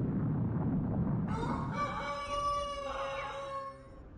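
A rooster crows once as a sound effect in a French fantasy audio drama, a loud, drawn-out call with a harmonic ring that rises over a rumbling background.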